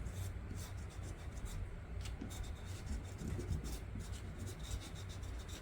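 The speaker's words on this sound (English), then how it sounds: "Yeah, this eraser is working much better." An eraser rubs back and forth over dried masking fluid on watercolor paper, giving faint, repeated scratchy scrubbing strokes at close range with no voices.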